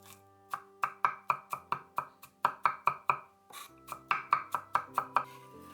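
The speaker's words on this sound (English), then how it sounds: "Chop 30 grams of garlic." Thirty grams of garlic are chopped with a knife on a board, a brisk run of crisp, close taps in quick bursts with a brief pause midway.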